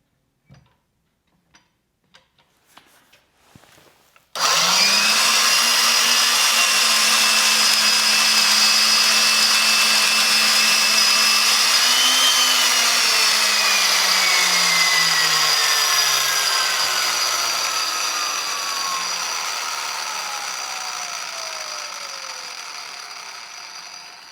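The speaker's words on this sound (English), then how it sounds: "it's the adjustment of this tenon auger. So I'm going to start a new tenon here." A tenon auger bites into a wooden stagecoach wheel spoke to cut a new tenon. Faint taps come first, then a sudden loud, sustained whirring cut with a falling whine that gradually fades.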